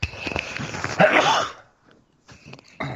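A single sharp sneeze on a radio show, an abrupt close burst of breathy noise followed by a brief gasp-like sound, then near silence with faint rustles.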